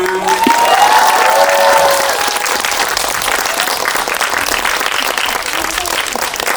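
Loud audience applause and cheering greet the actors and director arriving at a Korean film screening Q&A for the movie Exit, with a few whoops early on and dense clapping continuing steadily throughout.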